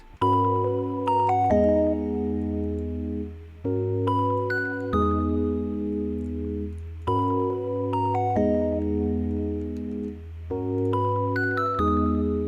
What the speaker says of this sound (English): I have a layered bell that sounds like this.